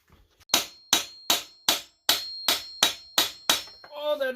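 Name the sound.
hammer tapping a stuck panel loose on a Sears Custom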